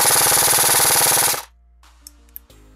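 An airsoft gun with its stock OEM motor fires full auto, 0.2 gram BBs at 413 FPS, in a rapid loud buzzing burst of about 1.4 seconds that stops abruptly, followed by a few faint clicks and a low hum.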